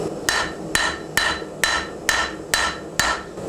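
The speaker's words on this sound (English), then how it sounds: "I'm forging on this area where it matches the bevel on my hammer here" Seven evenly spaced hammer blows ring out on hot 5160 coil steel being hand-forged into a knife near the bolster, each a sharp metallic clang with a short decay.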